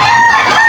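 Rooster crowing loudly and close at a busy outdoor poultry market, a single short strained crow.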